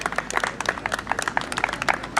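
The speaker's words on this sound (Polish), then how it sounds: "Brawa dla niego" A small audience at a Children's Day strongman show in Kawęczyn claps in scattered, uneven bursts for a competitor being introduced, moderately close and fairly light.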